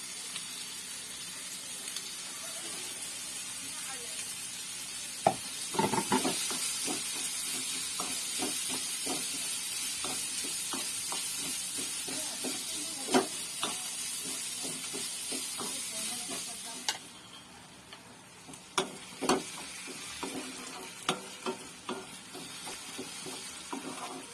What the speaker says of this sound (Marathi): कांदा गोल्डन ब्राऊन करून घ्यायचा